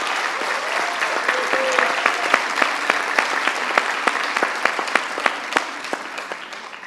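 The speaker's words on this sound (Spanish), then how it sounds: "Le damos un fuerte aplauso de bienvenida." At an environmental education panel, an audience gives a warm welcoming round of applause, a steady dense clapping with a few sharp, prominent individual claps standing out, holding strong for several seconds with no talk over it.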